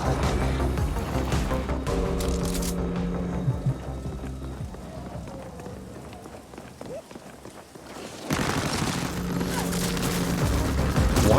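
Dense, continuous gunfire and explosions from the sci-fi shooter video game The Ascent, a loud rattling barrage that dips briefly midway before surging back, with a voice talking underneath.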